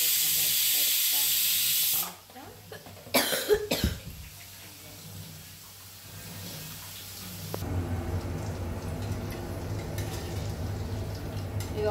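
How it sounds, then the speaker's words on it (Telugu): Eggplant frying in hot oil in a home kitchen: a loud, bright hiss at first, then a quieter steady sizzle that swells again later, with a cough and handling noises in between. "కావాలి కాబట్టి వంకాయ ఆయిల్ ఫ్రై చేద్దాం."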